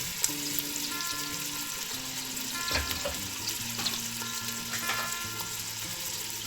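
Tomatoes stirred in a pan for garden egg (eggplant) stew, a steady close sizzle and fry with scraping stir strokes, under faint background tones.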